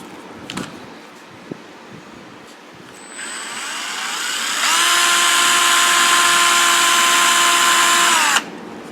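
A power drill whirs up and runs steadily at high speed for several seconds into a Honda EU7000iS generator fuel tank, then cuts off abruptly; a couple of faint knocks come before it starts.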